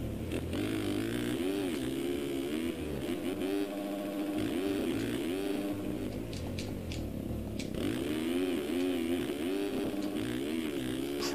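A motocross bike engine in the Mx Simulator racing game drones and revs steadily throughout, its pitch rising and falling as the throttle opens and closes.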